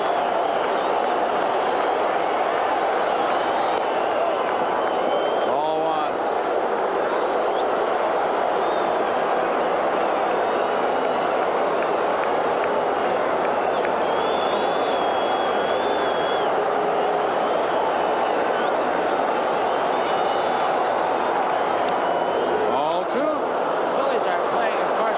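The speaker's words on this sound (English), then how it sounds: "The crowd will pretty much tell you what's happening in this 9th inning." Baseball crowd at the 1980 World Series, ninth inning of Game 6 between the Kansas City Royals and Philadelphia Phillies, a steady roaring wash of cheering and applause lasting throughout, with a broadcaster's voice occasionally over it.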